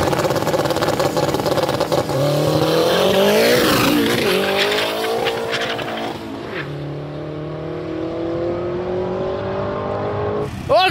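A Chevrolet Chevette drag car launches down a drag strip, engine screaming up through the gears with a brief tire squeal, then easing off and fading to a lower hum before a sharp burst at the end; no voices.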